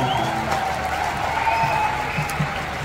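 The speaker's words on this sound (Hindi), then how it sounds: "दो का तालियां हो जाए, दो का तालियां।" Steady, dense applause from the audience fills a live comedy show, The Kapil Sharma Show in London, sustained and even at close range for about three seconds with no break.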